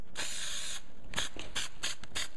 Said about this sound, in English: we're just coming in and we're spraying this